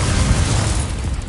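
A Confringo spell explosion in Hogwarts Legacy, a dense, loud blast of broadband noise with a deep rumble that holds for just over a second, close and unbroken, with no talk.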